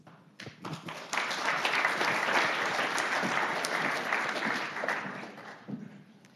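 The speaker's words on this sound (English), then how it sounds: "please join me in terms of a round of applause for a big thank you to this panelist" An audience at a university business school CFO roundtable public forum breaks into sustained applause, rising quickly to a dense wash of clapping, holding for several seconds, then thinning out.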